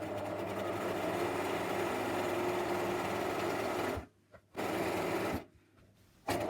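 Domestic sewing machine stitching around an appliqué piece, a steady close whirring hum that runs continuously, then stops briefly twice as the work pauses and restarts.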